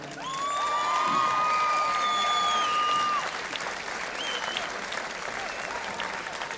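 Audience applause at an outdoor festival, a dense steady clapping crowd, loudest for the first three seconds then easing slightly, with some whistles and cheers mixed in.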